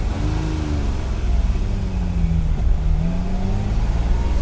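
Engine of a vintage Ferrari revving as the car pulls away, a loud, steady mid-pitched drone that rises and falls in pitch through the short stretch, with no voices over it.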